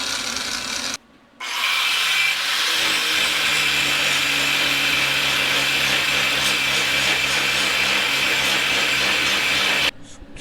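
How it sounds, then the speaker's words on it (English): An angle grinder run over metal on a welding cart to flatten it, a loud steady grinding whine that cuts out briefly near the start and then holds for about eight seconds before stopping. "Just ran the grinder over those just to flatten it out a little bit."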